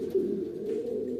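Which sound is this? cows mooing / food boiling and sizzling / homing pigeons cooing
homing pigeons cooing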